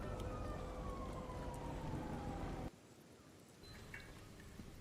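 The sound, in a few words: fire truck siren in Kenshi video game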